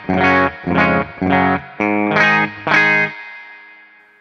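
Clean electric guitar played on the bridge pickup through a Marshall Super Lead style amp, as six bright, evenly spaced strummed chord stabs, the last one ringing out and slowly decaying, with no voices.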